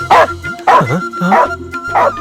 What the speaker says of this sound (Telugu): కుక్క వేరే అరిసి చూపించేలాగుందే